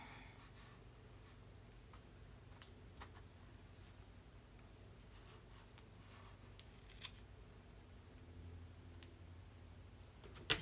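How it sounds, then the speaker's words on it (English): Scissors snip off a piece of art quilt cloth in a few faint, brief clicks and cuts scattered over a quiet room hum, close but soft, with no speech. "I'm going to snip it off, I think, maybe."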